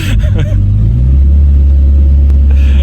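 An Audi R8 police car engine idles with a deep, loud rumble that swells into a rev and then settles into a steady, heavy drone, with brief voices at the start.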